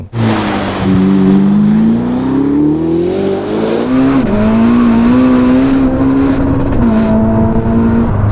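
A loud 1000-horsepower Ferrari SF90 engine revving hard and climbing in pitch through the gears, with a brief drop at each shift, close and continuous.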